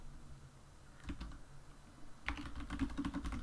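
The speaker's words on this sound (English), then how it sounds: "and I'm going to type the second line of code," Someone types code on a computer keyboard, close and quiet, with a couple of short bursts of key clicks and then a faster run of tapping toward the end, without speech.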